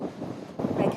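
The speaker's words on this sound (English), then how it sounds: "Live there in a very windy Blackpool." Strong storm wind gusting in Blackpool, a steady blustery rush buffeting the microphone and swelling louder near the end of a very short burst.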